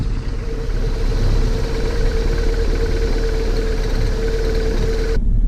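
An MG TF track-day car engine, suspected of blown pipes and exhaust gases in the coolant, runs at a steady, rattly idle, close and continuous throughout with no voices.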